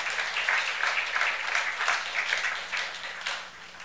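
A church youth congregation applauding during a sermon, dense sustained clapping from many hands filling the room, steady and fairly loud, tapering slightly toward the end.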